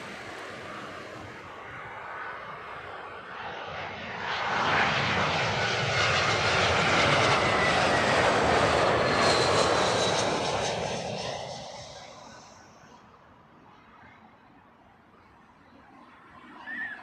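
A British Airways Boeing Dreamliner jet, Flight 6 in from Tokyo, roars past at Heathrow Airport, its engine noise swelling from a distance to a loud, broad rumble and hiss, then fading away.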